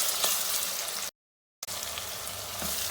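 Garlic paste frying together with onions in a pan for an aloo gobi curry, a steady crackling sizzle that cuts out completely for about half a second and then resumes at the same even level.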